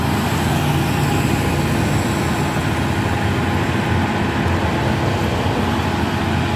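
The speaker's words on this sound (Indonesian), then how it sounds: "Truk derek ya." A tow truck drives past on a hillside road, producing a loud, steady rumbling engine and road noise that stays constant throughout, with no talking.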